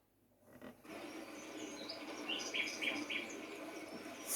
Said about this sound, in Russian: Поют птицы лесные